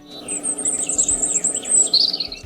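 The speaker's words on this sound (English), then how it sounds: "The birds sing." Birds chirp and sing in high, continuous trilling phrases over an autumn outdoor scene, with insect-like buzzing and low background rumble underneath; no voices present.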